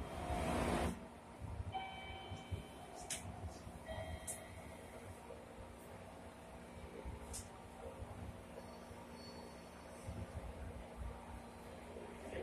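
A local train bound for Mishima sits idling at a platform at Shizuoka Station with a steady low rumble and hum, broken by faint electronic tones and occasional squeaks.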